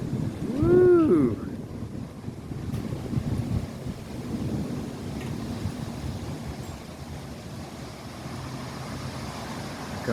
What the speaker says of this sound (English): A little more thunder.